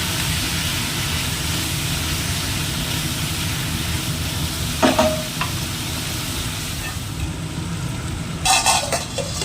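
Potato and pointed gourd curry cooking in a pan with a splash of water, a steady loud sizzle with a couple of brief spatula clatters, close up and without voices.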